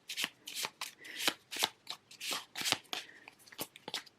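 A deck of cards being shuffled by hand for a reading challenge, heard as a quick run of crisp riffling bursts, close and fairly quiet, with no talking.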